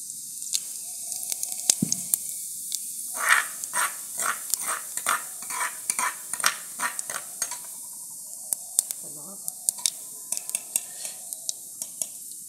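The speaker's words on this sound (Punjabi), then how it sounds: "ਲਓ ਆਪਣਾ ਤੇਲ ਗਰਮ ਹੋ ਗਿਆ, ਆਪਾਂ ਜੀਰਾ ਪਾਵਾਂਗੇ।" Cumin seeds hit hot oil in a pan, giving a burst of crackling, popping sizzle that gradually thins to sparse, scattered pops and a faint hiss.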